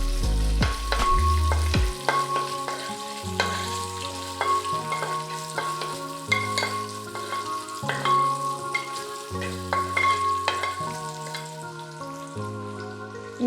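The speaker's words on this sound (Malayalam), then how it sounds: "1 ടേബിൾ സ്പൂൺ ഇഞ്ചി, 1 ടേബിൾ സ്പൂൺ വെളുത്തുള്ളി, ഇത്രയും ഇട്ട് കൊടുക്കാം. എന്നിട്ട് നമുക്കതൊന്ന് ചെറുതായിട്ട് സോട്ട് ചെയ്യാം." Ginger and garlic sautéing in hot oil in a pan for a chicken curry, a steady close sizzle with occasional stirring scrapes, heard alone without speech.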